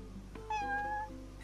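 A cat in the video game Final Fantasy XV gives a single clear, drawn-out meow over a low steady background hum, with no voices.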